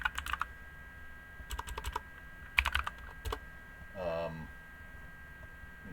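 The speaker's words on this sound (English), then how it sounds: "I've got this clicky keyboard, and the microphone's right next to it" Fast clattery keystrokes from a clicky mechanical keyboard, close and loud, in short bursts with pauses between, and a brief murmur of voice near the end.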